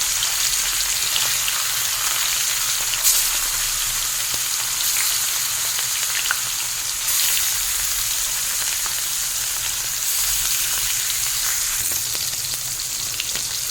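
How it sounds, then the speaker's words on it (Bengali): Pieces of katla fish sizzle steadily in hot mustard oil in a kadai, with a dense, even crackle that swells briefly in a few spots and carries no speech. "তেল গরম হয়ে গেছে, একে একে মাছগুলো ভেজে নেব।"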